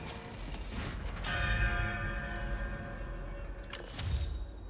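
A bell in the Spider-Man 2 video game rings inside a large echoing hangar, a sustained metallic strike with a long reverberant tail, followed by a second strike near the end.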